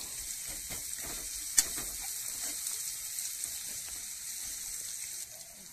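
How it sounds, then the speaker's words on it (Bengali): Chopped onion and other ingredients fry quietly in a pan for a hotel-style bean bharta, a soft, even sizzle with faint scattered stirring noises and one brief clink early on. "এবারে দিয়ে দেব পেঁয়াজ কুচি এবারে সবকটা উপকরণ ফ্রাই করে নিতে হবে"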